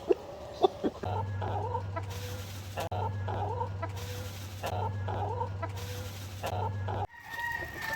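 Shamo hens on a farm cluck and call repeatedly, fairly close, over a steady low mechanical hum that stops near the end.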